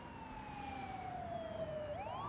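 An ambulance siren from a hospital TV drama wails in a long, gliding tone that falls slowly and then turns upward, steady and moderately faint over a low background hum.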